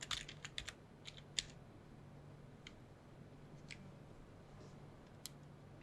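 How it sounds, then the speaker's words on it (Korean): Keys tap on a computer keyboard in a short, quick burst of faint, close clicks, then a few scattered single taps over a low background hum in an otherwise quiet room. "그래프라고 타이핑 하실게요."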